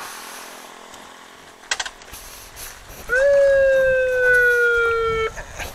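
A rescue vehicle's siren arrives on a roadside, a loud steady wailing tone that starts abruptly mid-way and holds for a couple of seconds over light background noise and brief clatter.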